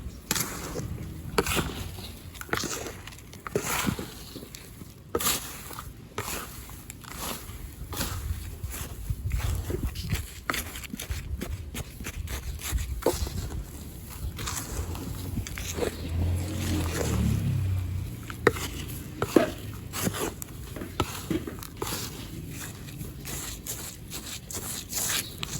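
Potting soil is stirred by hand with perlite, tea powder and vermiculite, giving a steady run of gritty scrapes, crunchy rustles and small clicks, close and fairly quiet.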